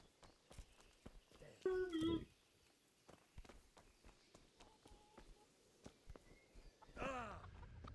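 Horse hooves clip-clop at a walking pace in the medieval role-playing game Kingdom Come: Deliverance, with sharp, evenly spaced hoof strikes on the ground and brief voice sounds at a couple of points.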